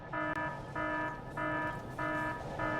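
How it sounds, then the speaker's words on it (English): Alarm in the video game Factorio with the Pyanodon's mod. A loud electronic buzzing tone sounds in repeating pulses about every half second, steady and mechanical, with nothing else over it. "Where's this actual alarm?"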